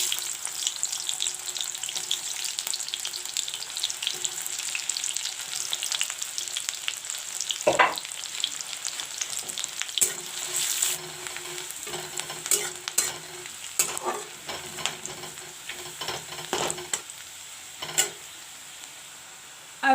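Sliced onion frying in mustard oil, a steady close hiss broken by frequent sharp scraping and tapping as a spatula stirs the pan, with no talking.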